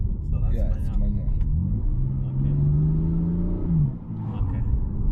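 A BMW M4 Competition sports car engine rumbles and rises in a deep, revving drone close by, with people talking over it.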